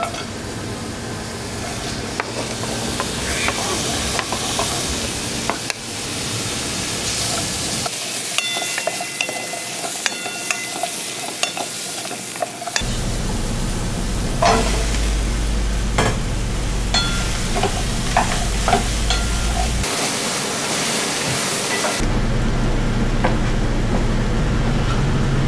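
Nikujaga cooked without stock, only vegetable juices, meat juices and soy sauce, simmers in a pot with the meat packed on top. Steady bubbling sizzle runs throughout, broken by gentle stirring scrapes and a brief pause midway, with no talk.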